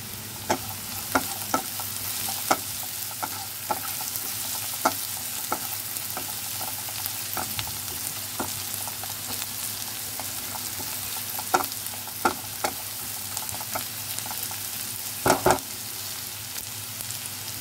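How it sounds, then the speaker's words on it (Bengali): Onion fries lightly in oil in a pan for an okra dopiaza. A steady, dense sizzle runs throughout, broken by frequent sharp clinks and scrapes of a spatula stirring, close and without speech. "একটু হালকা ফ্রাই হতে হবে পেঁয়াজটা"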